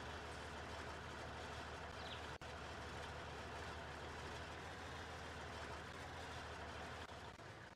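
A 400-horsepower John Deere tractor engine in Farming Simulator 19 gives a steady, continuous low rumble at even volume throughout, with no speech.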